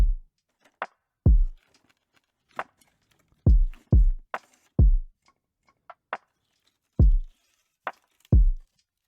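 A sparse, laid-back beat of punchy low kick thumps and occasional lighter hits, spaced irregularly with short silences between them.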